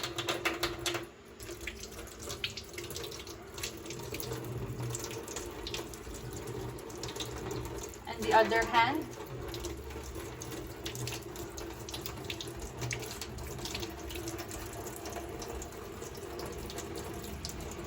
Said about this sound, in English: now we're gonna rinse our hands thoroughly with the warm running water